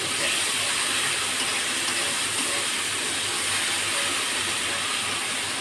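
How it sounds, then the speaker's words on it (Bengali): Water poured into a cooking pan for a fish curry, a steady broad rushing hiss that holds evenly throughout, close and fairly loud with no talk. "এখন এর ভিতরে আমি একটু হালকা জল দিয়ে দেবো"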